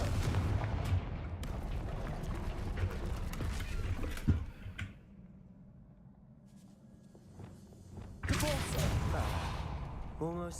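A Confringo blasting curse in Hogwarts Legacy goes off as a loud, booming burst around the four-second mark, followed by a quieter rumbling stretch and then a second loud crackling surge near the end, with game voices speaking throughout.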